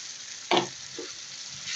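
A brief burst of sizzling and scraping as washed red lentils are stirred in a hot pan, then a quieter steady fry with a small second clink.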